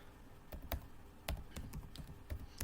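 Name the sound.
typing on a computer keyboard to enter data in Excel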